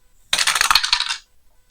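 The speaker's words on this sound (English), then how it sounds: "So we'll roll some more dice." A handful of dice rattles and tumbles across a hard surface for a tabletop football game, one close, bright clattering burst just under a second long, then quiet.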